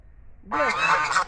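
A duck at Hope Zoo gives one close, loud, honking quack that lasts under a second after a brief quiet lead-in.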